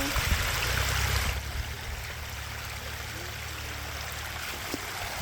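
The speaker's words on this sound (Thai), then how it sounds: "กวินมาเล่นน้ำตกเร็ว" Water rushes and splashes steadily like a small waterfall, with a heavier low rumble in the first second before settling into a constant flow.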